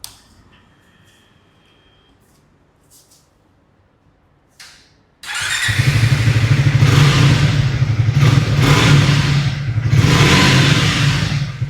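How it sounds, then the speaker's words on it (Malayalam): A Triumph Speed T4 motorcycle in a showroom starts after a few faint clicks, then its exhaust roars loud and close, idling and revving in repeated swells for several seconds. "എക്സോസ്റ്റ് ഒന്ന് കേൾപ്പിച്ച് നോക്കിയാലോ?"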